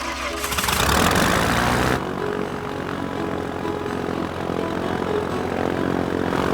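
A Piper Cherokee propeller airplane takes off, its engine swelling to a loud broadband roar in the first two seconds, then settling into a steady, droning propeller hum that carries on without voices.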